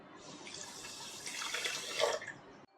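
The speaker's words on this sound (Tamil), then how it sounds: "அதே மாதிரி 1/2 கப் அளவு தண்ணி சேர்த்துக்க போகிறேன்." Half a cup of water pours from a cup into sugar for syrup, a short steady splashing trickle that swells and then stops abruptly, heard alone and close up.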